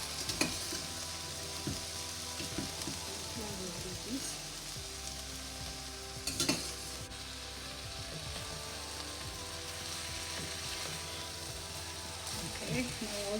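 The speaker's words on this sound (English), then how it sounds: "And now it's also time to add our cauliflower." Cauliflower sizzles and fries steadily in a pan for Bangalorean-style vegetable khurma, with occasional clinks of a stirring utensil against the pan, close and continuous.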